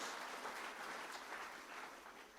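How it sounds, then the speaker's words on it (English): A crowd at an evening awards ceremony for young farmer grand finalists applauds with steady, moderately distant clapping that stays even throughout, with no voices on top. "Please, a round of applause for all of our FMG Junior Young Farmers of the Year"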